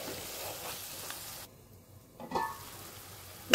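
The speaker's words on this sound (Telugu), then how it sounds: "ఇంకా ఉప్పు వేసేసుకొని వీటిని కూడా కొద్దిసేపు వేగనివ్వాలి" Chana dal masala fries in oil in a pan with turmeric, green chillies and salt, giving a soft, steady sizzle that briefly drops away, then returns with a faint clink at the end.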